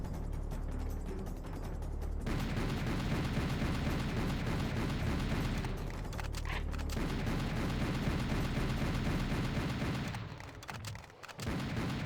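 Rapid video game gunfire, dense repeated shots forming a continuous clattering burst that runs for several seconds, breaks briefly, then resumes and cuts off near the end.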